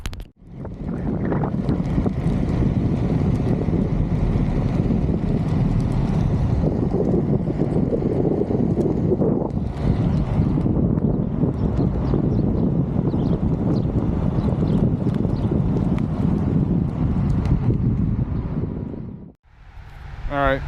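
A GoTrax G4 electric scooter is ridden along while steady, loud wind buffeting roars into the microphone, a continuous rushing noise that drops out sharply just before the end, where a brief voice is heard.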